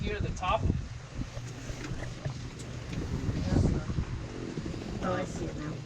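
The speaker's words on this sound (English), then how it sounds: "So there's the engine running." A boat engine idling at about 700 RPM, a steady low rumble under wind noise and people talking nearby.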